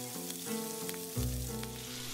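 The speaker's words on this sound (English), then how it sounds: "Turn the shrimp over, then cook them for another 2 minutes on the other side" Shrimp sizzle steadily in a hot pan after being flipped to cook on the other side for shrimp tacos, a loud, close, continuous frying hiss with a brief stir partway through under background music.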